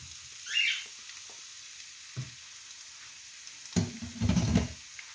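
Meat dropped into a hot pan for green beans with rice, sizzling and frying in quiet bursts, with a louder crackling surge near the end as pieces settle into the oil.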